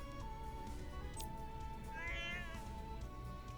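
Cats meow in the Saga Emerald Beyond video game, with clear drawn-out meows over a steady musical background and no talk.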